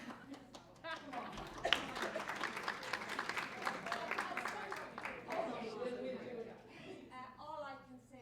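An audience claps at a student debate event, a steady patter of many hands running for about eight seconds with voices mixed in and under it.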